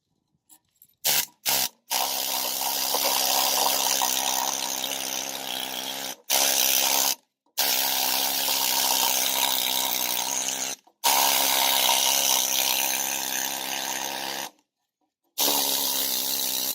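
A pistol grip pneumatic needle scaler, driven by an air compressor, hammers at tack-welded bolts in long, steady, loud rattling bursts that start and stop several times, with short silent gaps between runs.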